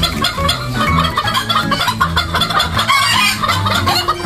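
Hens in a coop on a rainy day clucking busily and close by, overlapping calls from several birds with a crowing note mixed in.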